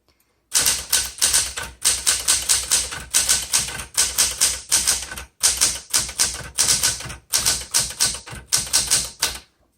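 Rapid mechanical keystrokes on a 1974 Smith Corona Galaxie 12 typewriter in continuous bursts separated by short pauses, loud and close, with no voices.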